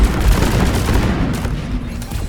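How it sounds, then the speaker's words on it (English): Cluster grenade explosions in the video game Deep Rock Galactic make a loud, dense barrage of overlapping blasts and crackling pops. The rumble is continuous and fills the whole moment, with no talk. "Cluster grenade!"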